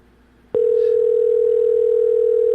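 An outgoing phone call produces a ringing tone, one loud, steady sustained beep that starts abruptly and continues unbroken to the end, with no voices over it.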